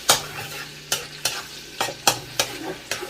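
Garlic sautéing in a pan for pinakbet, a Filipino vegetable stew, with a spoon stirring it: about eight sharp scraping strokes at a steady pace over a soft, continuous sizzle, heard close with no voices.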